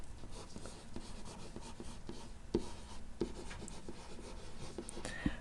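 Pen or marker writing during a physics lecture on particle velocity and acceleration, a steady soft scratching with faint clicks and taps, close and fairly quiet throughout with no talking.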